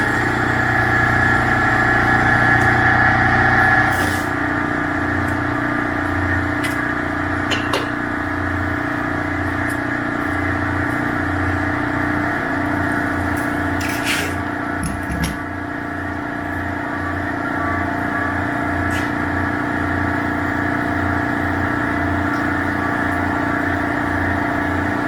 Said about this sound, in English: Fire up the air compressor.